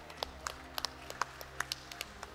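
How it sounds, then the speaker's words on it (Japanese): An audience at a final claps in sparse, scattered bursts, a dozen or so quiet, distinct hand claps rather than a full ovation, over a faint background hum. "拍手迎えてください"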